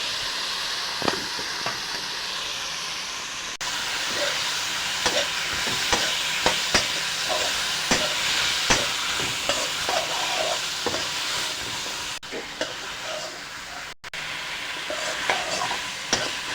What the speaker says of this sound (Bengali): আমরা আলু এবং সিমটাকেও একটু কষিয়ে নিচ্ছি।